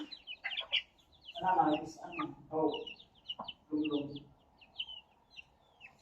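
Chickens cluck and chirp in short bursts close by, with sharper high peeps scattered between the clucks.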